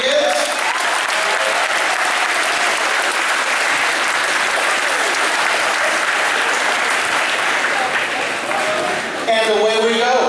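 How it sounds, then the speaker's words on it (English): A graduation-ceremony audience applauds the band conductor, dense sustained clapping from a large crowd filling the hall, loud and even, with a brief musical tone rising at the end. "We give him a little round of applause to get the courage of kids."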